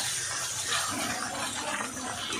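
Tamarind water is poured into a simmering okra curry masala in a pan, making a steady splashing, gushing pour that runs for a couple of seconds.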